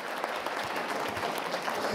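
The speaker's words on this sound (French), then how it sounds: "une bonne main d'applaudissements" Audience applause at a public market event on mountain and nature activities, a dense, steady clapping that fills the whole two seconds without pause.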